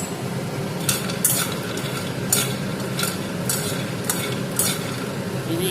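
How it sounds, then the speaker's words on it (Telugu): Peanuts and green chilies roast in a pan for a chutney, a soft steady sizzle running underneath while a utensil stirs and clinks against the metal several times. "ఈ పచ్చడికి ఇప్పుడు వేరుశనగపప్పు వేపుతున్నాను అనమాట ఫ్రెండ్స్."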